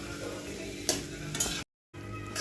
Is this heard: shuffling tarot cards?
no